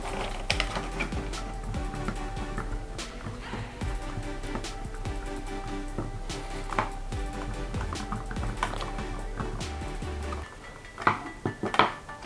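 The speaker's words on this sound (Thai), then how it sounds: "แล้วเราก็ใส่ฝาครอบกลับเข้าเหมือนเดิมครับ" A plastic cover plate is pressed back onto a switched wall power outlet, producing close, irregular clicks, taps and small rattles over a low hum, ending with a few sharper snaps.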